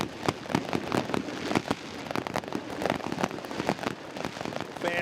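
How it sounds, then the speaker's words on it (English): Fireworks go off outside the venue during a CD Olimpia vs FC Motagua football match, a dense, rapid crackle of sharp pops and bursts that keeps going without a break. "fireworks flaring out from outside the venue"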